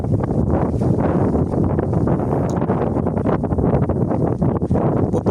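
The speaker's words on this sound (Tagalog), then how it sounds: "Lakas ng hangin." Strong wind roars and buffets the microphone continuously, a loud rushing noise with no pauses, out on shallow water.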